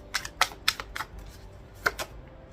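Tarot cards being shuffled in quick bursts of crisp, papery flicks and taps, a few clustered riffles close to the microphone with short gaps between them.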